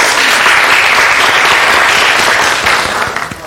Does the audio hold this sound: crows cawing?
no